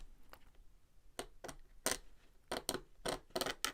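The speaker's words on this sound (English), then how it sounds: "And you hear that I'm really scraping that." A pointed craft knife scrapes hard across watercolour paper in quick, sharp strokes, starting sparse and then coming in a close, loud, rapid run of rasps.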